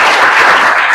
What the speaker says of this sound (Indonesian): Tepuk tangan buat ketiganya.